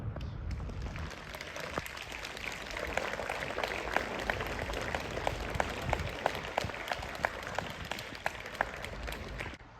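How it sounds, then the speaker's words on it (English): An audience claps, a loose, moderate applause of scattered hands with distinct individual sharp claps standing out over a steady background murmur, continuing throughout. "Give each other a round of applause."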